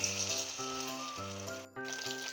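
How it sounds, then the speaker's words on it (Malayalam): Soya chunks frying in hot oil in a pan, making a steady close sizzle throughout, with a musical tone running underneath and a brief dip near the end. "എണ്ണ നല്ലോണം ചൂടായതിനു ശേഷം നമുക്ക് എണ്ണയിലിട്ട് വറുത്തെടുക്കാം."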